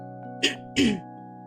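Two sneezes in quick succession, the second louder and longer, over a steady low electrical hum with no talking.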